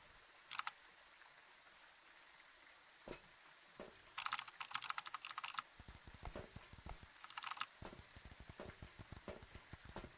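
Rapid computer keyboard typing and mouse clicking during a Phasmophobia ghost-hunting game session, in scattered bursts that grow denser and steadier toward the end, close and fairly quiet with no talk.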